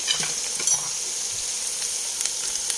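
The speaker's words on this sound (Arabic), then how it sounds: "ولما تتقلب البصلة بدي احط معجون الثوم والزنجبيل." Onion frying in oil and butter with garlic and ginger paste, stirred in a pan: a steady close hiss of sizzling with soft scraping stir strokes, a few brief clinks near the start and end.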